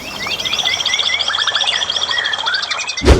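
Parrots in an aviary give a busy chorus of high, shrill chirps and whistles that overlap continuously, close and fairly loud, before a sudden low thump at the very end.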